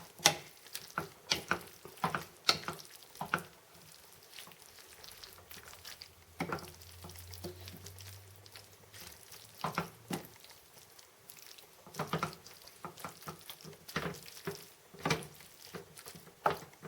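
Sauce stirred into seafood pasta with lobster, scallops, tomatoes and spaghetti squash in a pan, heard as intermittent sharp scraping and clicking of a utensil with a soft low sizzle between the strokes, close and with no talking.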